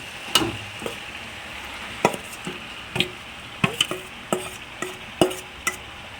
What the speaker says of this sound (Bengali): সেই ম্যারিনেট করা মাংসটা কিন্তু আমি এর মধ্যে দিয়ে দেব